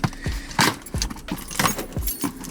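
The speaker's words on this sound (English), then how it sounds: "let me grab my keys really quick so I can open this" A bunch of keys jangles and clinks in several sharp bursts as it is grabbed to slice open a sneaker box, close by and fairly quiet, without speech.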